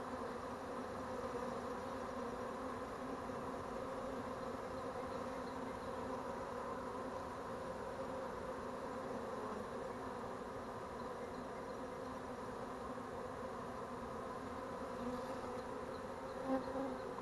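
A dense, steady buzz of a honeybee swarm humming together, continuous and fairly close, with no voices over it.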